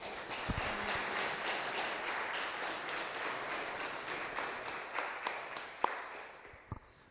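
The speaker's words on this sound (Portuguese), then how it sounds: "Aplauda o Senhor" A church congregation claps in praise of the Lord, a faint, steady wash of applause with a few louder individual claps and knocks near the end.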